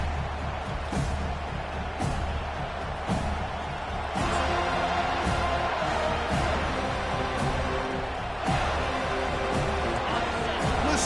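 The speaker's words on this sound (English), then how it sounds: "Listen to the crowd energy here in the early going." Stadium crowd in the video game College Football 25 at a Miami versus Florida State matchup, a constant roar with sharp thumps and swells, with an announcer's voice over it.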